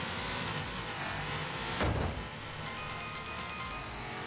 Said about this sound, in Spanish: Muy mala salida, le he dado antes de tiempo a acelerar.